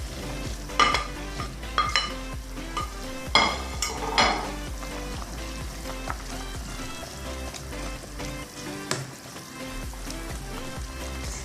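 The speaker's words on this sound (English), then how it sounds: "while the meat is cooking with the onions, we can add the bamia into it, the okra" Meat, onions and okra (bamia) cooking in a pan, a steady close sizzle and fry with occasional clinks and stirring scrapes against the pan, and no voices.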